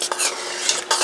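A spoon stirs a chunky cranberry mixture in a hot pot, giving a quick run of close scraping and squelching strokes with a faint sizzle underneath.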